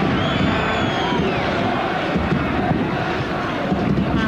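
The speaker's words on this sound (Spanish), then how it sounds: "Aplausos en el Camp Nou por este gesto deportivo." A football crowd at Camp Nou applauds during the 1997 Copa del Rey quarter-final between Barcelona and Atlético Madrid, a steady, dense, distant wash of clapping and stadium noise with no breaks.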